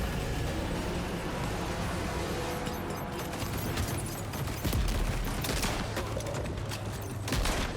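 Shotgun fire in the video game Death Stranding 2, loud and continuous with dense blasts and rumble throughout amid other game noise.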